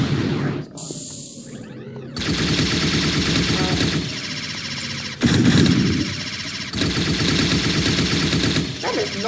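Gunfire in the Unity FPS Microgame shooter game, including shotgun blasts: loud, rapid bursts of shots in several long stretches, separated by short quieter gaps.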